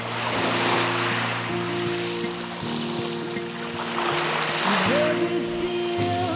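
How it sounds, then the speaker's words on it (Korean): Surf washes in and drags back over the round pebbles of Jujeon Mongdol beach, a continuous close rushing with swelling surges and a rattling retreat. "이게 몽돌 봐라 소리가 파도가 들어왔다가 딱 나갈 때"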